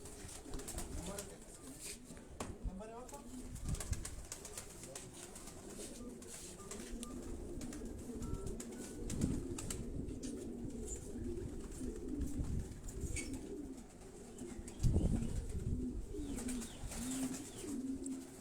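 Asil high-flying pigeons coo steadily at a loft in Quetta among surrounding mountains, with soft repeated cooing and occasional wing flutters over a continuous low background murmur.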